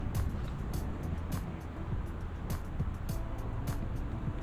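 Cars passing along a city street, a continuous low rumble of traffic heard on a walk, with scattered ticks and rustles on top and no single pass standing out.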